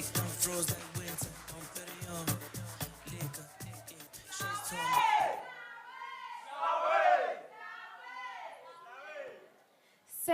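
A university team makes an energetic stage entrance at a national newsroom contest, with a rhythmic group chant and stomping beat at first, then loud crowd shouts and cheers rising in bursts.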